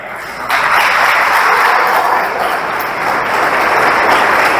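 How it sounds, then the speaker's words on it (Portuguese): A church congregation breaks into loud, sustained applause that begins abruptly and carries on steadily throughout. "Você aplauda o Senhor por isso."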